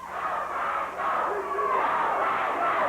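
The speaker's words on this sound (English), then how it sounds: "The crowd starts to chant." Wrestling arena crowd at a 1996 USWA televised event, a dense roar of many voices that swells into chanting, steady and loud throughout the stretch.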